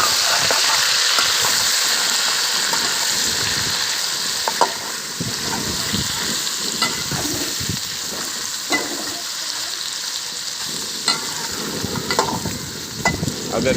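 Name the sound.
mutton frying in ghee in a karahi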